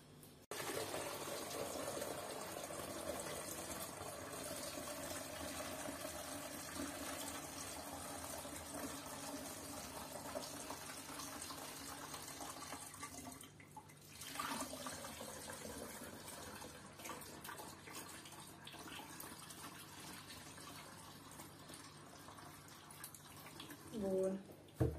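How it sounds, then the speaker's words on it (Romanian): Thick homemade apple cider vinegar being poured into a 2-litre bottle, a steady liquid pour running for most of the stretch, close up, with a brief pause partway through and a small clink near the end. "tot conținutul acesta care mi-a rămas mai gros, o să-l torn aici"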